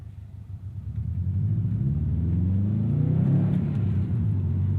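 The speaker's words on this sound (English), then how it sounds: "I do love the noise that Subarus make with those unequal length headers" Burbling rumble of a 2016 Subaru WRX STI with unequal length headers, rising as the engine pulls under acceleration, close and loud with a clear climbing tone and no talk.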